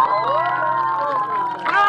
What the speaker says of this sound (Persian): خانم آقایون، تشویقی هنرنمایی نداره؟